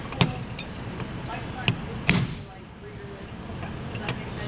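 Several sharp metallic hammer strikes on a wheel bearing race of a 1980-1996 Ford F-150, F-250 or Bronco hub, spaced irregularly, ringing briefly over a steady background hum.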